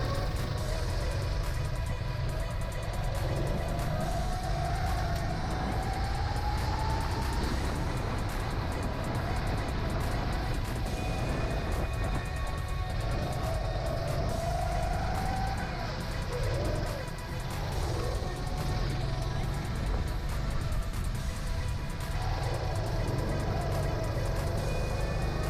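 Karts racing in a wet karting championship, a continuous engine drone with rising and falling whines as the karts pass and accelerate, heard from on board amid constant road and wind roar.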